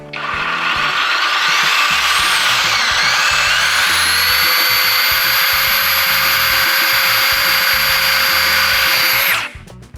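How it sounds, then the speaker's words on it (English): A Diablo diamond hole saw on a power drill cuts a hole, giving a loud, close, high whining grind that climbs in pitch, holds steady, then stops abruptly near the end. "Wow, diamond hole saw."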